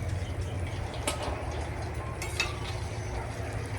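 Daylily fritters in golden batter frying in hot oil, a soft continuous sizzle with a few brief sharper crackles and clinks, fairly quiet and close.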